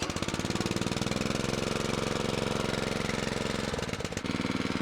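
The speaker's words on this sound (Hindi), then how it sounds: "ट्रैक्टर स्टार्ट हो गया" A repaired tractor engine runs steadily after being fixed at home, a loud, close, rhythmic knocking chug at a constant idle, briefly dipping near the end before resuming, with no voices.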